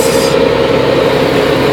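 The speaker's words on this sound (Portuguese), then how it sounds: "O barulho desse caminhão é chique" A loaded truck hauling fine gravel (brita zero) drives at about 40 km/h. Its engine gives a loud, steady drone with a strong hum, close and continuous with no talk.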